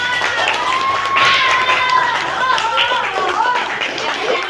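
Children clap their hands together in a classroom in a quick, lively burst, with voices mixed in close by.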